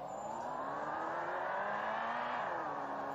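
A car engine in a Garry's Mod-style game revs and sustains a rising, droning whine, loud and continuous with a pitch that climbs then eases, heard alone without talk.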